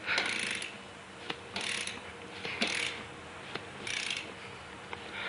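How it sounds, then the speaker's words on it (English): A ratcheting wrench loosens a 17mm top nut during a rear coilover install on a 2011 Scion tC, giving repeated bursts of quick clicking at roughly one-second intervals, close and moderately loud. "by removing this top 17mm nut with this ratcheting wrench"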